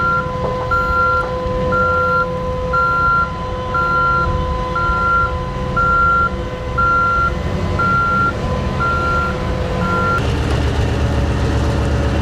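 At a Chernigovets coal mine, the world's largest dump truck is loaded while a steady reversing beeper pulses at a regular rhythm over a low rumbling engine, ending in a sudden louder burst of noise.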